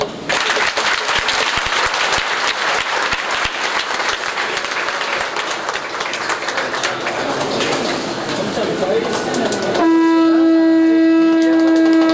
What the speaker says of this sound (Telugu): ఇక జాగ్రత్తగా ఒక్కసారి చప్పట్లు కొట్టండి